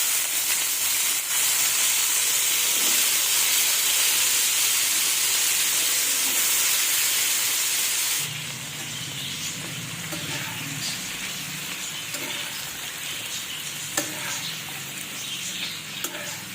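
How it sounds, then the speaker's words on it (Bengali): Spices spluttering as they hit hot oil for a poppy seed dish, a loud dense hiss and crackle that drops partway through to a softer, steady sizzle. "পোস্তর জন্যে তেলে ফোড়ন দিলাম"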